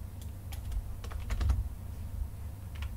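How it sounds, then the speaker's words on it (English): Computer keyboard keys pressed for a shortcut during rigging work, a few quiet clustered clicks and taps close by over low room hum. "press that shortcut Control Shift C"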